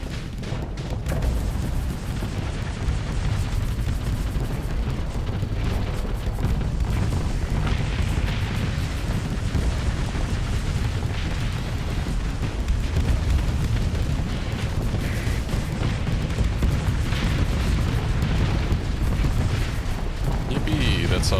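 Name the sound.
explosions in the video game Starsector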